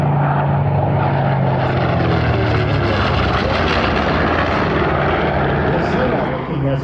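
Mitsubishi A6M3 Zero fighter flying past at the Truckee Tahoe airshow in 2024, a loud, continuous propeller-engine drone that swells and shifts pitch, with an announcer speaking over it.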